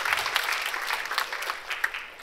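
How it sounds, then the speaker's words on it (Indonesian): Audience applause at a motivational church talk in Indonesia, a short burst of brisk, fairly soft clapping from a seated crowd. "yuk tepuk tangan ya untuk Erik ya"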